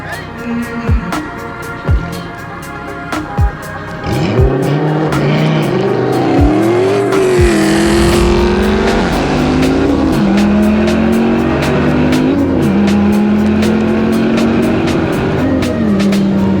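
Dodge Viper ACR and Dodge Challenger Hellcat launching side by side in a street race: quiet clicks and idle, then a loud, close engine roar surging through rising and falling gear pulls with tire noise for over ten seconds.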